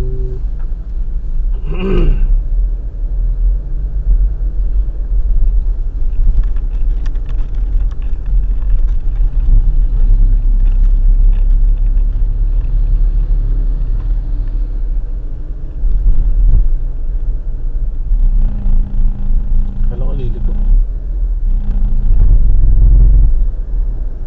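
Steady low road rumble from inside a moving car in traffic, a continuous engine and tyre drone with occasional passing vehicle swells, no talk.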